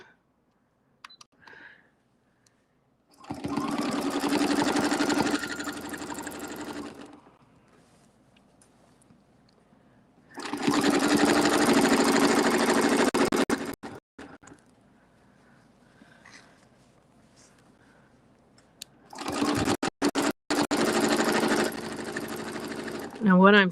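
A sewing machine runs in three steady bursts of rapid stitching, each lasting a few seconds. Quiet pauses with small handling clicks separate them, and the motor hums close and clear.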